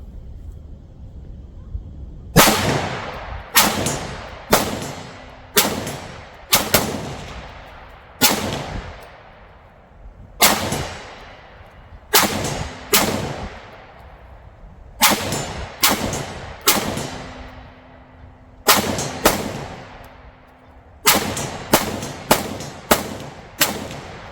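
Short-barreled 300 Blackout rifle with a muzzle brake firing 150-grain Fiocchi FMJ at a steel silhouette about 60 yards off in the woods: about twenty sharp, loud shots in uneven clusters, each with a brief ringing tail.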